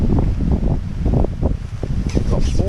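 Wind buffets the microphone outdoors beside a fishing channel, a constant low rumbling gust noise that continues under intermittent talk.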